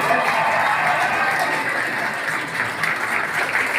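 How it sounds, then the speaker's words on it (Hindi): An audience at a ceremony for special-needs children's Olympics medal winners claps loudly and continuously, a dense, sustained wash of applause that holds steady throughout with no talk standing out. "आपकी बहुत सारी तालियों में"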